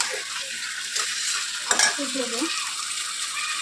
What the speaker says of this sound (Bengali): তো মাংসটা একটু নাড়াচাড়া দিয়ে আমি ঢেকে দেবো।